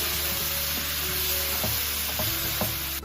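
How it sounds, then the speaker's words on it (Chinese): Tomato, green beans, mushrooms and soaked black fungus stir-fry in a wok with a steady, loud sizzle and occasional scraping knocks of the spatula, and no voices. "加入提前泡发好的黑木耳，一块给它翻炒"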